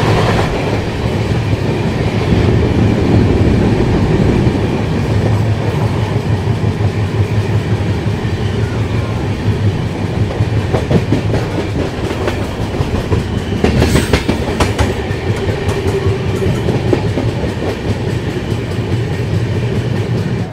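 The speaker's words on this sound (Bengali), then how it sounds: "ট্রেন কিন্তু আস্তে আস্তে উঠছে পাহাড়ে, দূরে দেখা যাচ্ছে পাহাড়।" A train climbs into hills on the Vizag to Araku route, its steady loud rumble and rhythmic clickety-clack of wheels on rails running continuously throughout, with a brief sharper burst of rattle midway and no voices.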